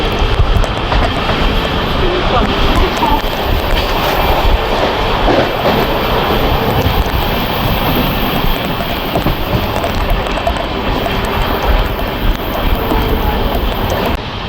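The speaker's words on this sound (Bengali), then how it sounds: "হাওড়া থেকে ছাড়ার পরই ট্রেন ভীষণ স্পিডে চলছে।" Netaji Express with LHB coaches runs at high speed out of Howrah, a loud, steady rumble and rush of wheels and wind continuing without break.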